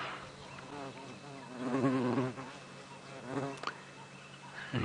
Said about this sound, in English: And you may just be able to hear a buzzing now and then. It's the cuckoo wasp.